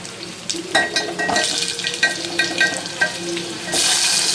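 Mango pieces tipped into a hot pan for mango chutney, setting off a loud steady sizzle, with spoon-stirring scrapes and clinks through the middle and a sharp hiss swelling near the end.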